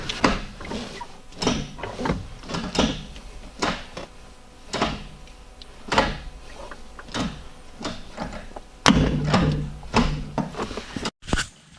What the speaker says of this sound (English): Go through all the gears real quick.